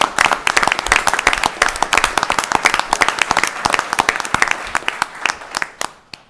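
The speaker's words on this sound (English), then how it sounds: "Gentlemen, go ahead and clap first." Audience at a county board of commissioners meeting clapping for two honored road workers, a dense burst of many close, loud hand claps that runs for several seconds before thinning out near the end.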